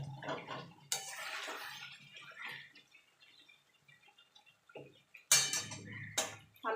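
Boiled potatoes drop into spiced oil in a pan, bringing sharp splashy sizzle bursts and clatter amid quieter scraping and stirring.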